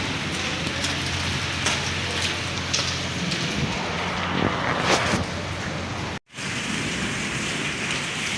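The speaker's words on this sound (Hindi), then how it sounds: "बारिश अभी भी काफ़ी तेज़ हो रही है।" Steady, dense morning downpour of heavy rain with a constant hiss and pattering, water pouring down from above, briefly cut out for a moment before resuming.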